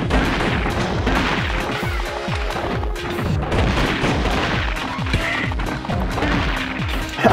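Dense barrage of rapid booms and blasts from missiles fired in a cat-themed video game, continuous and loud throughout, with repeated impacts layered over a steady roar.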